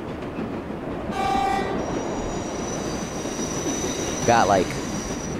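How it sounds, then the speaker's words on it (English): Subway train in the World of Subways simulator approaching, with a steady rumble of rail noise, a brief horn-like tonal blast early on and a short squeal of wheels near the end, with a few quiet spoken words. "another train's approaching."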